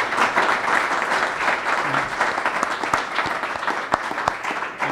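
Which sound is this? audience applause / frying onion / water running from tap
audience applause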